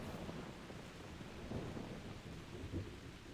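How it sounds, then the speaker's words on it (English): Thunderstorm ambience in the video game theHunter: Primal: faint steady rain hiss with soft low rumbles of distant thunder, quiet and continuous with no voices. "Could have been a thunderstorm though."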